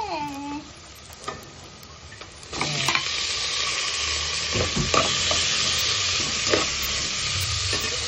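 Meat dropped into a pan of sautéed aromatics for a vegetable-rich mung bean stew sizzles loudly and steadily after a quieter start, with occasional stirring scrapes and clinks close by.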